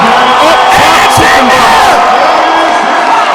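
A loud stadium crowd at a seven-on-seven football championship game roars and cheers continuously, whoops rising above the steady wall of noise.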